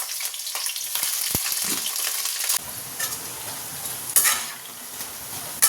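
Pakoras frying in a hot kadai of oil, a steady dense sizzle with stirring clatter and a few sharp utensil knocks, close and continuous with no talking.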